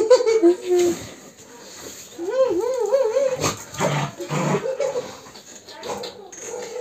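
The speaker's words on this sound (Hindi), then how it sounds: "देखो गुर्रा रही आगे से" A dog growls and whimpers in uneven bursts, close by, mixed with excited human voices during a tug at someone's trousers.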